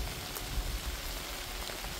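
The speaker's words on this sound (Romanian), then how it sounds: "Cum plouă." Rain falls outdoors in the Apuseni Mountains, a steady dense hiss with soft patters, moderately loud and without voices.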